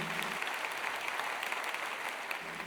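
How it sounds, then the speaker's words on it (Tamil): An audience at a Tamil Pongal festival debate stage claps in a dense, steady burst of applause that fills the hall evenly throughout. "ஒரு உற்சாகமான கைத்தட்டு"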